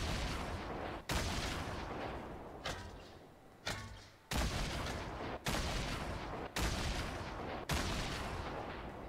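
Heavy gunfire and blasts in the Fortnite video game: a dense, loud barrage that keeps going, broken by sharp impacts about every second, with a brief quieter lull partway through.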